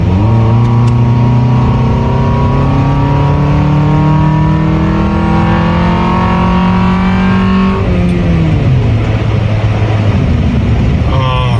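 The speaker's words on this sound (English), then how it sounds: "Someone punching it in a stock car with just an intake" A Honda Accord's engine, stock apart from an aftermarket intake, revs hard and close, its rising harmonic drone climbing steadily before dropping sharply, then revving again, very loud.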